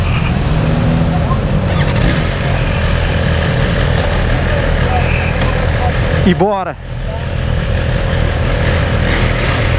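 Engine of a 2024 BMW S1000RR motorcycle, idling steadily and then giving one quick rev that rises and falls in pitch, close by, with a voice speaking over it.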